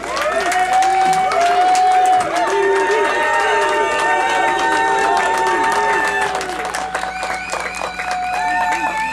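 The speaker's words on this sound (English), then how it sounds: "good, big round of applause for Guru" A crowd at an event applauds and cheers for Guru, loud sustained clapping with whoops and shouted voices throughout, one person talking over the noise.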